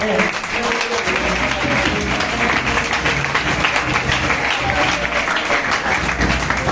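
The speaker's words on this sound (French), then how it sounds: "un gros applaudissement pour lui" A Reformed Christian church youth presentation audience gives a big round of applause, loud and sustained clapping with crowd noise filling the entire stretch without a break.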